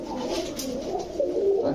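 Fancy pigeons of breeds like Budapest, Teddy and Kamargar coo close by, a soft low rolling murmur that swells and repeats under a faint background hum.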